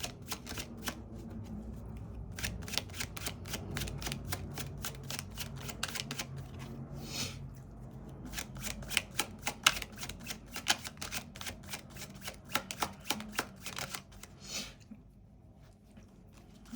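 Tarot cards being shuffled by hand, a long run of rapid riffling clicks and soft slaps in repeated bursts, close and steady with no talking.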